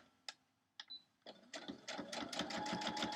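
A sewing machine stitching a quilt block starts with a few isolated clicks and short bursts, then runs into a fast, even stream of needle strokes that grows steady and close, with no talking.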